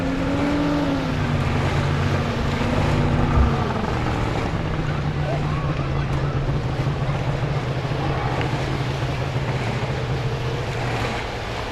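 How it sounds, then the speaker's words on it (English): Racing boats on Lake Tholocco approach the starting line, their engines droning steadily across the water with a shifting whine, blended with wind and water noise at a moderate distance. "The boats are approaching the starting bars now."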